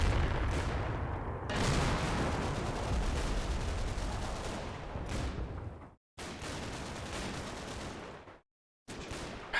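Machine-gun bursts and Churchill tank fire in the Combat Mission: Battle for Normandy video game, a loud sustained rattle of gunfire with heavy booms, broken by brief silent gaps, with no talking.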